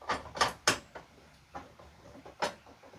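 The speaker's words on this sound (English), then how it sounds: "I'm going to loosen this knob." Knob being loosened on an INCA 570 jointer/planer, giving a few close, sharp mechanical clicks and ratcheting taps in quick bursts, then a lone louder click after a short pause.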